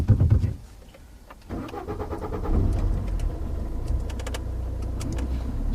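A learner driver's car engine starts after a short crank, then settles into a steady idle close by with faint clicks over it, and no talk.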